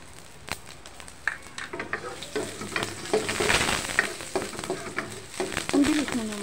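Chopped garlic dropped into a little smoking-hot oil for chicken sotanghon soup sizzles and crackles loudly and steadily, with sharp pops and stirring clatter throughout.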